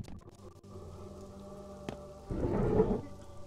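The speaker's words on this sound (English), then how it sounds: "Okay. It's raining." Rain falls in the video game Pathologic as a faint, steady patter. A single sharp crack comes midway, then a louder, heavier rush of rain swells toward the end.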